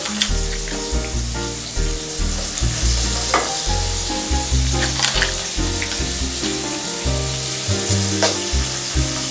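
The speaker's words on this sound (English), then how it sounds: "And I will fry till their little oranges in color. Crab shells as well." Crab pieces and shells fry in oil over low heat, giving a loud, continuous sizzle with crackles and stirring sounds close by.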